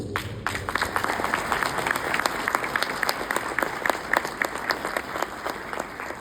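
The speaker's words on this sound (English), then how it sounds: "A round of applause." Audience at an international symposium keynote breaks into sustained applause, a steady dense patter of many hands clapping for several seconds, even and continuous with little talk.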